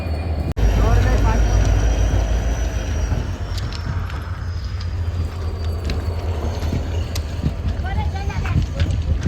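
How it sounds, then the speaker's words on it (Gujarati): A train rumbles steadily as it draws nearer, a continuous low roar with faint voices in the background. "સામેથી ટ્રેન આવી રહી છે"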